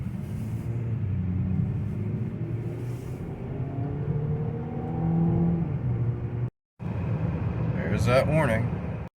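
A 2019 Chevrolet Impala LT with a 2.5-liter four-cylinder engine accelerating, a steady droning engine rumble and road noise heard from inside the cabin that builds gradually, briefly cutting out before resuming.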